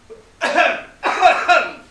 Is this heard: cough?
yes